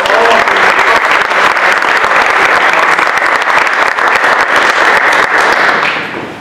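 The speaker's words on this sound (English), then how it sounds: "and extra strong applause." Strong, continuous applause from a conference audience at an academic planning session, thanking a presenter; dense even clapping fills the room throughout before tapering off at the very end.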